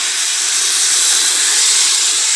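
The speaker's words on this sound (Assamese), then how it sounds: "এতিয়া ইয়াতে গৰম পানী দিব লাগিব" Hot water poured into a cooking pot of rice for plain pulao gives a steady, loud, close hiss that holds evenly throughout without pause.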